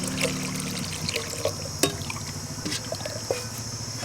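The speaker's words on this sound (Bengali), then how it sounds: "ভাতে জল দিয়ে দিয়েছি।" Cold water is poured over cooked rice in a pot, a light trickling and dripping with small splashes and a few clinks, close and quiet.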